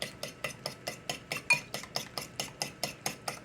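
A utensil stirs and scrapes scrambled eggs in a pan for an egg and pepper sandwich, making a dozen or so evenly spaced scraping strokes, close and clear, with no talking.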